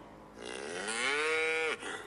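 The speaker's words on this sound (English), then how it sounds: "It is a cow." A single cow moos once, a clear rising then steady bellow lasting over a second before cutting off, heard alone and close.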